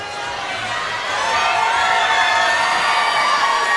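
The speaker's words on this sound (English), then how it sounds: "And this crowd, what a crowd we got here" At Hardrock MMA 81, a crowd cheers before a women's bantamweight pro bout, a broad, steady roar of voices and whoops that swells louder partway through and then holds.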